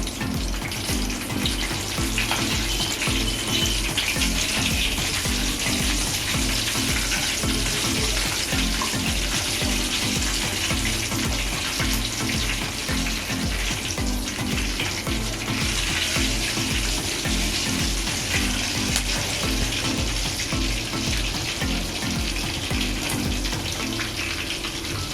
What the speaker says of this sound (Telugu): నూనె వేడి ఉంది కదా, దాంట్లోనే ఫ్రై చేసుకుంటున్నాను.